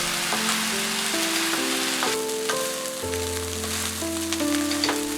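Rice stir-fries in a pan with light soy sauce, salt and pepper for Cantonese fried rice. The pan gives a steady, close, crackling sizzle, with soft musical tones in the background.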